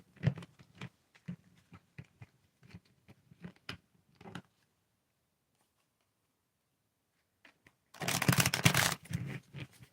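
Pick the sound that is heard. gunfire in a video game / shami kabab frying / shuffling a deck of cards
shuffling a deck of cards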